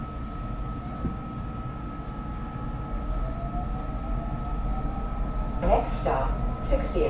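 A Market Frankford Line elevated train rumbles out of a station with a steady hum and rolling rail noise, while brief voices rise near the end.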